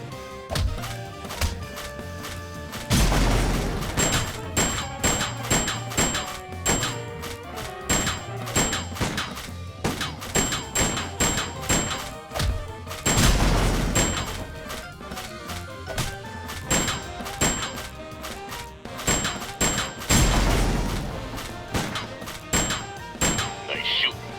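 Gunshots in a shooting sequence of the Sam & Max Beyond Time and Space PC game, several loud sharp bursts standing out at intervals over continuous game music and effects.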